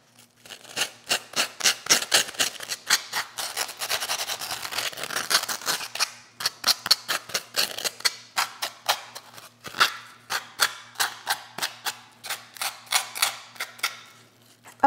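Sandpaper scraping back and forth across a wooden piece being prepared for painting, a close, steady run of dry rasping strokes, dense at first, then a quicker rhythm of separate rubs.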